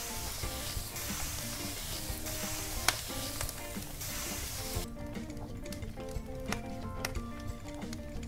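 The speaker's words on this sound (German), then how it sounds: "Da kann ich jetzt hier ganz entspannt erstmal das Fleisch braten." Meat for köfte fries in a pan with a steady, close sizzle and crackle throughout, punctuated by occasional stirring clicks and scrapes, with no talking.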